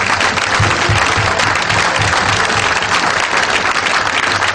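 A congregation breaks into loud, sustained applause acclaiming Jesus during a sermon, a dense roar of many clapping hands with some crowd voices mixed in, steady throughout.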